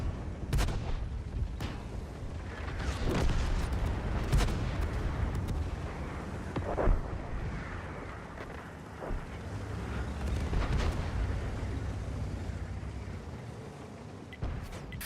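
Tank cannon shots in a tank video game: a series of sharp, heavy booms fire at irregular intervals over a constant low battlefield rumble, some close and loud, others more distant.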